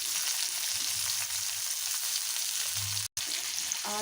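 Chopped onion frying in oil with cumin seeds gives a steady, dense sizzle up close, with a brief cut-out near the end before the frying resumes.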